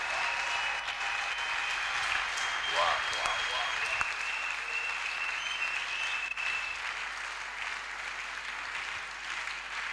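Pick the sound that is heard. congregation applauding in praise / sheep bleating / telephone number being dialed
congregation applauding in praise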